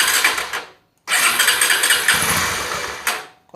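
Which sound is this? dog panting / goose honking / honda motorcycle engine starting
honda motorcycle engine starting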